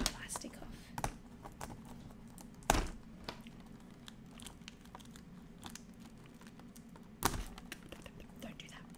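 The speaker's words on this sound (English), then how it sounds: "Take the plastic off." Plastic wrapping being peeled off an advent calendar, with soft close crinkles and a few sharper rustling bursts, under quiet whispered talk.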